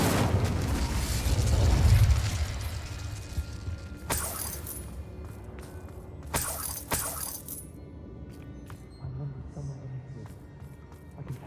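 Confringo and Incendio spell blasts from Hogwarts Legacy burst out in a rumbling whoosh followed by two sharp shattering cracks, then fade into quieter ambient game sound, with talk mixed in.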